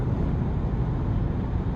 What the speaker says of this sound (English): Hearing a little bit of wind noise as the sun goes down